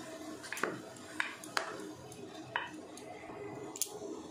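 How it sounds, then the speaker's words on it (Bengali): Soybean and gram flour batter is mixed by hand in a metal bowl, with scattered light clinks and taps of a spoon against the sides over a low background hum. "এবার এটা আমি মিশিয়ে নেব ভালো করে"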